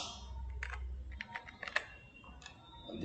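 Keys tapped on a computer keyboard while entering formulas in an Excel sheet, a run of quick, close clicks in irregular bursts, quiet and without speech.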